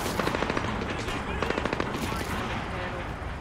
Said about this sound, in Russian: Внутри терминала слышна стрельба,